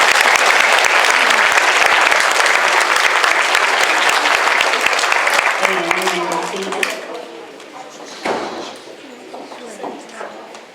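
An audience applauds students at a first- and second-grade elementary school end-of-year awards ceremony. The clapping is loud and dense at first, then fades away as a voice begins speaking.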